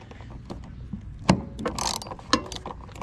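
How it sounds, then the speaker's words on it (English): A quarter-inch ratchet with a short extension and 7mm socket works on bolts of a 2002 Ford Explorer 4.6L V8, giving a few sharp, close clicks and clatters at irregular intervals against a quiet background. "I've just got a 1/4 inch ratchet with a short extension, 7mm socket."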